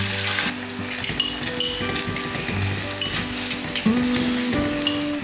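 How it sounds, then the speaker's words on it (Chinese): Minced meat stir-fried in a wok with garlic, shallots and bean paste, sizzling loudly and steadily with stirring scrapes throughout. "把肉碎炒香后加一点生抽"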